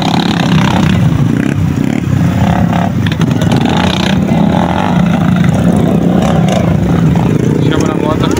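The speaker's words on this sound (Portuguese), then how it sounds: "Chama na moto." A motorcycle engine runs loud and close, with a throaty continuous drone and occasional rising revs, voices talking faintly underneath.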